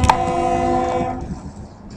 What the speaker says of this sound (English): We'll pause just a second to let the train go by.